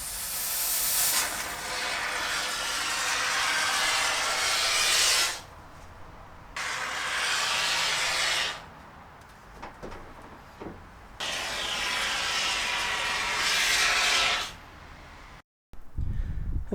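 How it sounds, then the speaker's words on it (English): Spray foam insulation hissing into the seams of a van floor, three long steady bursts, loud and close, with short quiet pauses between them. "I'm going to just kind of spray that insulation in on the seams and the cracks"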